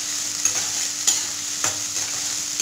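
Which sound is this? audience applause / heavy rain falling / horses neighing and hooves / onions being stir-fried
onions being stir-fried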